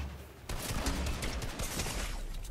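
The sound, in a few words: SMG gunfire in the video game Fortnite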